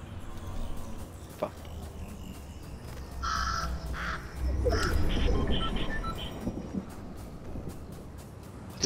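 A crow caws in a Fortnite match, a few harsh calls clustered midway over a low windy background, moderately near and clear against the ambient game noise.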